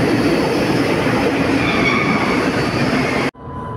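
A Milan metro train heading to Cologno Nord rumbles steadily along the rails with a broad, loud roar, then the noise drops abruptly near the end to a quieter hum.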